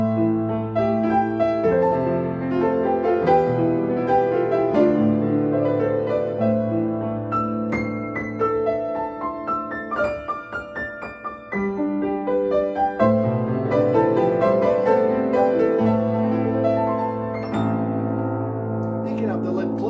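A used Strauss upright piano, one needing some work, plays a tune alone for about twenty seconds, with sustained chords and melody lines ringing close and fairly loud throughout.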